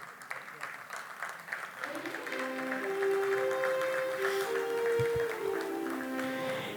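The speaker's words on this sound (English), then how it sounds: "Please cheer for his family." Audience clapping and cheering for a graduate's family at a graduation ceremony, scattered claps swelling into fuller applause with a voice and sustained tonal sounds over it.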